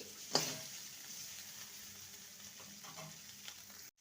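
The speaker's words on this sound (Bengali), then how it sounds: "উচ্ছেটা আর একটু ভাজা হবে" Bitter gourd frying in a pan gives off a faint, steady sizzle after a brief clatter near the start, continuing quietly without any talk.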